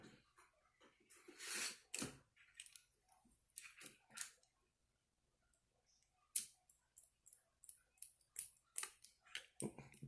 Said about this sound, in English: Salt strong scissors supposed to be good for cutting braid.